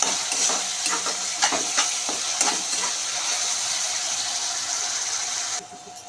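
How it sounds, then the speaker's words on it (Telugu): Onions sizzle and crackle steadily in a hot pan while being cooked for a tomato curry, with scattered louder stirring clicks over a constant bright fry hiss that drops off right at the end. "ఆనియన్స్ ఇలా బాగా ఫ్రై అయిపోయినాయి."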